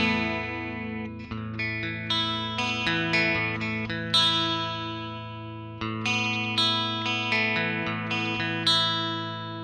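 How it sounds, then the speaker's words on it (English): Electric guitar played through a Yamaha THR amp with chorus engaged, a sequence of plucked notes and chords with shimmering, swirling sustain, moderately loud and alone. "You hear the chorus come in."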